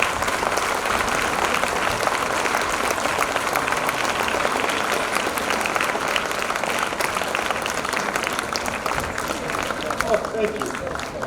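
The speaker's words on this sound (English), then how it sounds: "with a big thundering applause and standing ovation, I request all to invite that chief guest of the day" A seminar audience in Visakhapatnam applauding the chief guest, dense continuous clapping from many hands filling the hall for the full stretch, loud and steady without letup.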